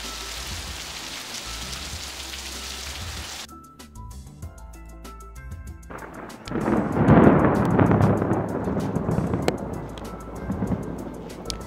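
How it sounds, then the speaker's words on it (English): Heavy monsoon rain pours steadily while thunder rumbles and cracks, with a sharp break partway through and a louder, swelling downpour with deep rolling thunder toward the end. "During the monsoon, it's common to see things like lightning, high-intensity rainfall, intense winds,"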